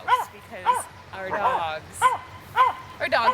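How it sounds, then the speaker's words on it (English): The household dogs bark near the house, a series of sharp, whiny yips and barks repeating roughly every half second, close and fairly loud. "dogs let us know someone's here."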